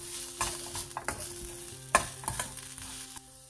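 Ground coriander, cumin powder and salt are stirred in a pan for kuska biryani masala, giving a few soft, uneven scraping strokes with faint sizzling between them, quiet and close.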